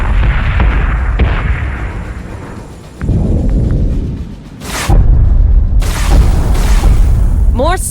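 Heavy ship's-gun fire and booming blasts in the space battle game BSG Deadlock, loud and close, coming in dense bursts with sharp cracks and rumbling swells.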